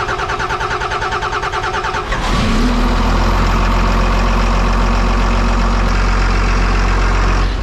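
A vehicle engine with a freshly repaired fuel line cranks in a rapid rhythmic whirr for about two seconds, then catches and settles into a loud, steady idle close by.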